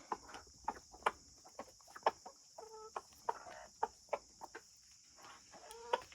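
Hens cluck and peck while eating spaghetti for breakfast, sharp pecks and soft clucks recurring in an irregular rhythm close by, with a steady high background hum.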